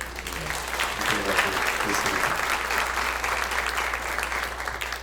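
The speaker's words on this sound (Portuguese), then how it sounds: "A biografia da Giane de Castro, que merece uma salva de palmas." Audience applause at a piano concert evening, a dense, even roar of clapping that holds steady throughout and fades slightly at the end, with faint voices beneath.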